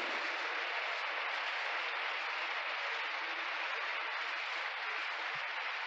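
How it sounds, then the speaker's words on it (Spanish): A church congregation applauds in a dense, even wash of clapping that holds steady throughout. "Un aplauso, hermano."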